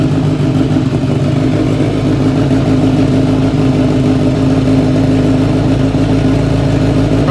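A Kawasaki big bike with an aftermarket exhaust idles loud and close, a steady low rumble with an even pulsing throb that holds for the whole stretch, with no talk over it.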